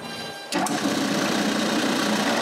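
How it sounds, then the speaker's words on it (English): A CNC machine spins up abruptly and keeps up a steady, loud, high-pitched whirring hum while cutting wood, close by. "the CNC is cutting the last woody cam"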